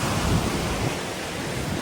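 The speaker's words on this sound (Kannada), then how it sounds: "ಸಮುದ್ರ ಯಾವ ರೀತಿ ಬೋರ್ಗರಿತಾ ಇದೆ ಅಂತ ಹೇಳ್ಬಿಟ್ಟು ನೋಡಿ" Loud, broadband roar of sea waves at a seawalk in Alvekodi, Bhatkal, heavy and continuous, with wind buffeting the microphone and no voices.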